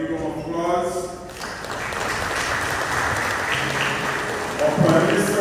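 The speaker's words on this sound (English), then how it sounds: "Governor General of Belize, Dave Fuad Salam, the big round of applause." A crowd at an official welcome of Belize's Governor General breaks into applause after a speaker, a broad, steady wash of clapping that holds for several seconds and then swells near the end.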